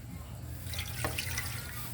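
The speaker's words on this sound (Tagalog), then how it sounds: "Lagyan pa ng tubig." Water splashes and pours into a pot holding a whole chicken being readied for frying, a bright hissing rush that starts partway through over a low steady hum.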